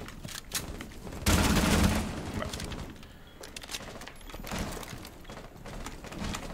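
Gunfire in Rainbow Six Siege, a dense burst of shots fired in an indoor corridor, loud and clustered, followed by scattered fainter shots and clicks with no talk.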